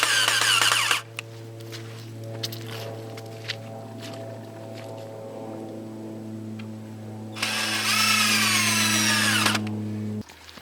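A power drill whines steadily for several seconds, with a louder high-pitched burst near the end as a screw is driven into a garden trellis, close up and without speech.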